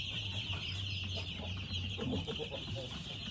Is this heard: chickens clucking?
yes